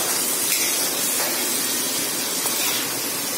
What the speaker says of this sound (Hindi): मिर्च अच्छी तरह से फ्राई हो जाए और सारी चीजें अच्छे से रोस्ट हो जाए तब तक फ्राई करेंगे